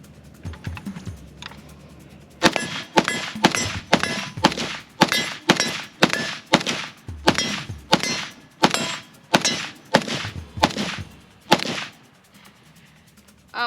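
A Draco Mini AK-47 fires a string of about sixteen rapid rounds, each followed by a sharp metallic clang of bullets striking a steel target, loud and evenly spaced after a brief quiet start.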